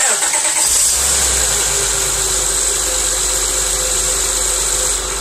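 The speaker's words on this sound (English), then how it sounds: "we're going to start the car" Car engine cranking and catching near the start, then settling into a loud, steady idle that holds close and unbroken for several seconds, with no talk over it.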